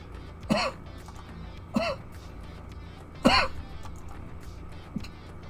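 A man clears his throat and coughs in three separate harsh bursts a second or so apart, followed by a fainter fourth, each close and loud against a quiet room.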